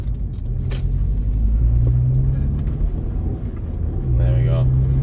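Rover 25 GTI engine pulling slowly in fourth gear from just above 1,000 RPM on an open road, a steady low rumble that swells gradually, with a voice talking over it throughout.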